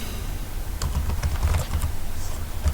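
Brisk typing on a computer keyboard, a close, dense patter of key clicks running for a couple of seconds with no voices.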